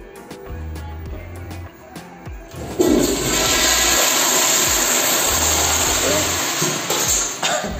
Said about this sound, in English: I figured out how to flush it so I can use it now